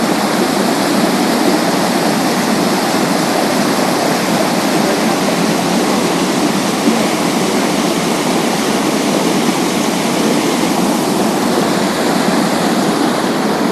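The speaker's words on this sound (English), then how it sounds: "We found this nice little waterfall" Small waterfall outdoors, a steady, loud, unbroken rush of falling water close by with no pauses or voices for the whole stretch.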